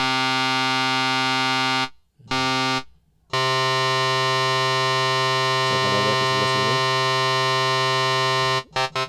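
An FM synthesis synth tone, with oscillator 2 modulating the first, drones as a bright, buzzy, harmonically rich sustained note. It cuts out briefly twice early on and again near the end, with a slight wobble partway through.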